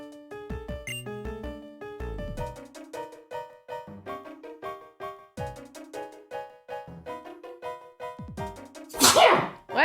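A single sharp human sneeze bursts out loudly near the end, over a busy backdrop of bright electronic game music with plinking melodic notes.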